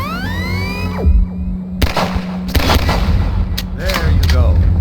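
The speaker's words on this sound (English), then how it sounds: "take the firearm of your choice and shoot the device" Firearm shots aimed at a target device in Half-Life 2: Episode Two ring out as a few loud, close blasts with booming tails over a low hum, and a voice briefly sweeps through.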